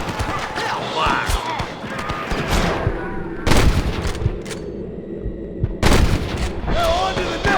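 Gunfire rings out during a shootout with rustler guards in the video game Red Dead Redemption: scattered sharp shots and louder blasts over game noise, with voices calling out between them.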